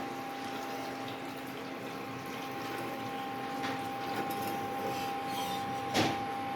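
Broth is poured into a Bengali hilsa fish curry, giving a steady soft liquid rush over a constant background hum, with one brief louder splash near the end.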